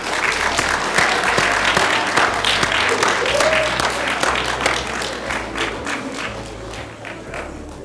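Audience applause welcoming the Chief of Staff for U.S. Senator John Barrasso of Wyoming to the stage, a steady roomful of clapping that holds for several seconds and slowly thins.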